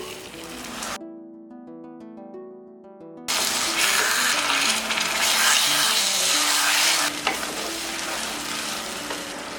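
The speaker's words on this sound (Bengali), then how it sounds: "এই পর্যায়ে আমি যে আমড়াটা ছেঁকে রেখেছিলাম একটা ছাঁকনি দিয়ে, এখন আমড়াগুলো দিয়ে দেব।" Strained hog plums going into a hot pan for pickle: after a short burst of music, a loud, close, continuous sizzle rises and holds with some stirring noise, without speech.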